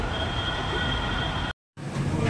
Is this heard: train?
yes